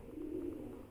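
Domestic racing pigeons cooing near a rooftop loft trap, a single low soft coo held for about a second, close and quiet with no talk.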